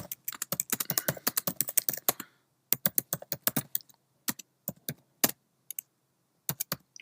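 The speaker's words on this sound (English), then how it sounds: "So I can just type in hello." Fast bursts of typing on a Mac computer keyboard in Microsoft Word for Office 365, crisp close key clicks in quick runs, then slower scattered taps with short pauses, no voices.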